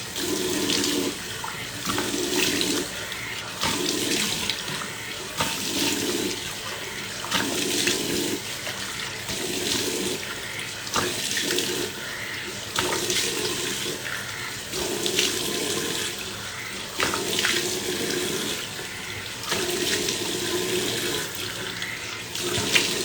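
A tap runs steadily into a sink while cleanser is rinsed off a face, with rhythmic splashing pulses as hands scoop water, close and continuous with no talking.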